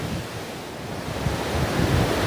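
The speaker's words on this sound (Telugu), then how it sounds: "అదిగోండి పెద్ద అల వస్తుంది" Ocean surf rolls in at Blue Bay beach in Mauritius, a loud continuous wash of waves mixed with heavy wind buffeting the microphone.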